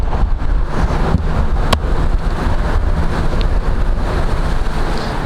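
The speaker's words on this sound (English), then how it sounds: "It's really windy this morning." Morning wind at an RV park in New Orleans buffets the microphone with a constant rough, low rumble and gusty roar, loud and unbroken, with no voices.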